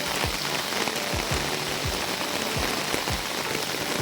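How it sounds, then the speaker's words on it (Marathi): Rain falls steadily outside on a village farm, making a dense, even hiss with occasional heavier drips, close and continuous, with no voices. "बाहेर मस्त पाऊस लागत होतो आणि त्यामुळे वातावरण एकदम थंड होता."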